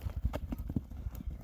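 A stallion offered for sale clip-clops on the ground, a quick uneven series of close hoof knocks with a faint voice in the background.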